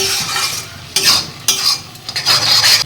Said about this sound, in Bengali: এখন আমি সমস্ত মশলার সঙ্গে এইভাবে কষাতে থাকবো আর গ্যাসের ফ্লেমটা মিডিয়ামে করে দিতে হবে